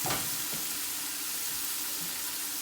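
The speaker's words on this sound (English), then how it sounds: "So I'm going to fry this up and let that cook with the bacon grease." Garlic frying in bacon grease for a zuppa toscana soup, a steady, close, dense sizzle that holds evenly throughout with no voices.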